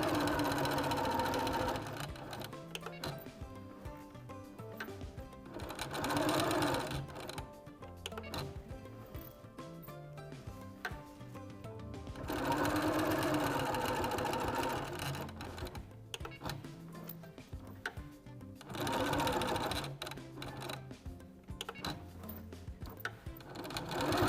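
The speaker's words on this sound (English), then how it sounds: "I'm going to make sure also to back stitch over my tab, just to make sure. It's secure." A sewing machine back-stitches over a fabric tab on a keychain wallet, in loud rapid bursts of needle clatter separated by pauses and softer clicks, close up and with no talking.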